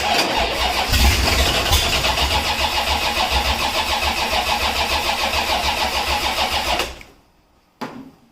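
A hot rod engine cranks and catches, then runs loud and rough at a fast idle for several seconds before cutting out abruptly, followed by a brief clunk.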